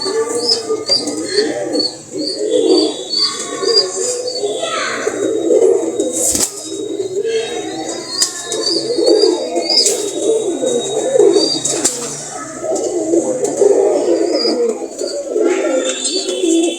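Pigeons in a loft, Benares pigeons among them, cooing in a continuous low murmur, close and fairly loud, with occasional chirps and a sharp knock partway through.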